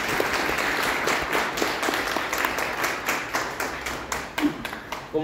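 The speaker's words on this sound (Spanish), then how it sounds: "antes de continuar, un aplauso." An audience on a night tour of an old convent claps steadily for several seconds, a dense patter of many hands with some individual claps standing out near the end.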